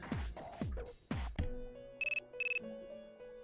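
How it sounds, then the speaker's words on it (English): A cell phone rings in Persona 3 Portable, two short bursts of a bright electronic ringtone trilling over a soft game music bed, each burst a quick pulsing tone. "Your cell phone is ringing."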